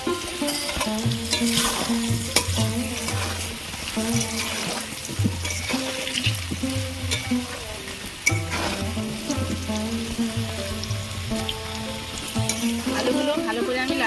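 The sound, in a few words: potatoes frying in oil with turmeric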